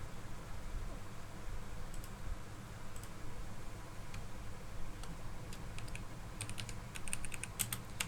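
Light tapping on a computer keyboard while a new folder name is entered, sparse keystrokes at first then a quicker cluster near the end, quiet and close over faint room hum.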